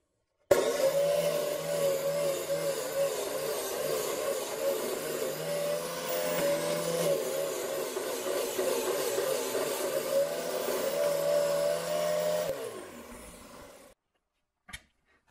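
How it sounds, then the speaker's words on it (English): A disc sander grinds along the edge of a wooden disc held on a drywall screw, a steady loud whine with a droning hum that runs for about twelve seconds, then spins down and stops, followed by a brief knock. "Now I'll put my safety gear on and start sanding the edge."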